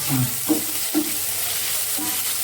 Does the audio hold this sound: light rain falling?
no